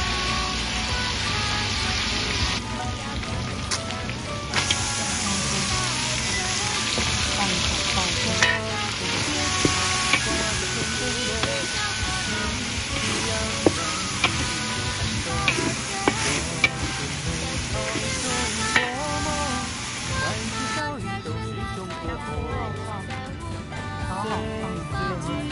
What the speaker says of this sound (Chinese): 猪肉爆香， 炒料备用。